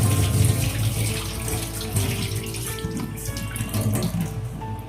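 Water runs steadily from a tap into a bowl, sloshing and splashing continuously as soaked lentils are rinsed beneath it, with no talking.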